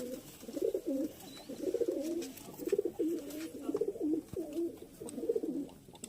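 Domestic pigeons, tumbler and pied breeds, cooing in a steady run of low, throaty, rolling calls, close and continuous, with no voices.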